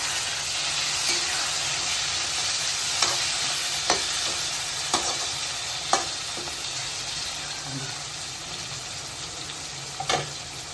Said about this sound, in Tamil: அப்படியே கொஞ்சம் கருவேப்பிலை கூட அப்படியே சேர்த்துக்கலாம். போட்டோம்னா நல்லா வதங்கணும்.